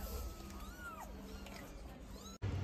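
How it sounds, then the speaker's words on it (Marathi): A cat heading off to feed its kittens gives faint, thin meows from a distance over a steady background hiss, and the sound cuts off abruptly near the end. "हे बघा ही मांजर गेली तिच्या पिल्लांना फीडिंग करायला"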